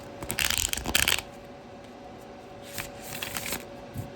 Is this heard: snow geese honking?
no